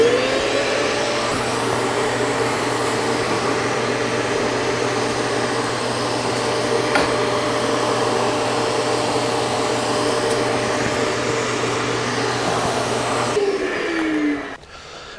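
A sander hooked to a Dust Deputy cyclone dust collector runs as a vacuum, a loud, steady whooshing roar up close that holds level before winding down at the end, with no talk.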